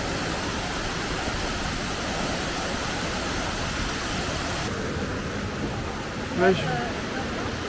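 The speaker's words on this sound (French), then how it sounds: "Première cascade. Trop beau." A jungle waterfall gives a steady, dense broadband rush that continues without a break for the whole stretch, holding an even level throughout.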